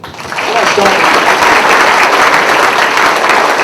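Audience applause on a local community talk show, a dense, steady wash of many hands clapping that swells in quickly and holds loud and even throughout.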